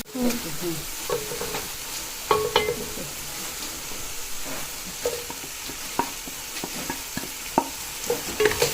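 Chicken karahi masala stirred and frying in a pan: a close, steady sizzle broken by repeated scraping strokes of the spoon against the metal, with no talking.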